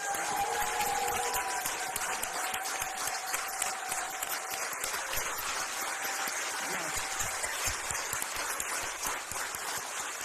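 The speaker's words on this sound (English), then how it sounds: "Your new council, if we could give them a round of applause, please." Steady applause from a seated audience at a Greensboro city council meeting, greeting the newly seated council members; dense continuous clapping fills the hall for the full stretch without pause.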